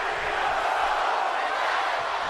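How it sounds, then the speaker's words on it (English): A large arena crowd in a WWE 2K17 wrestling game roars in a steady, dense wash of noise, with no single voice standing out. "in this particular crowd in Austin, not all that happy with Cena"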